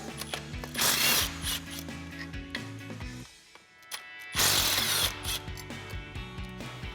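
Ratchet with a 13mm socket working the upper bolts off a stabilizer bracket on a RAM 2500 front suspension, heard as steady mechanical clicking and tool noise with bursts of harsh metallic rasping, close and fairly loud, with a short lull midway.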